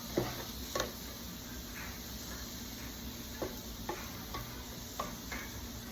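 Quiche ingredients being stirred together in a bowl, faint scraping and soft clinks of a utensil at irregular intervals over a quiet background, close and without talk.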